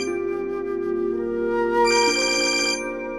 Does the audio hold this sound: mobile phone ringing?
yes